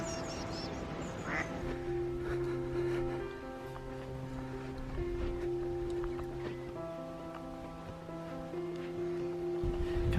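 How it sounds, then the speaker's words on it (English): A small family of ducks quacking at a waterside campsite, with repeated quacks over a soft background of water and wind, moderately close and without any talking. "I can hear some waterfowl disappearing in."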